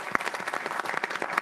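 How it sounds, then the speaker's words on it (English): Audience applause for a panel at a business discussion event, a steady dense patter of many hands clapping at moderate distance, sustained throughout with no talk over it. "Let's have a big round of applause for them today"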